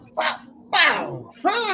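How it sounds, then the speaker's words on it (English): A dog barks three times in quick succession, close and loud, each bark a short sharp burst, with a person talking over and between the barks. "Okay, that's my dog."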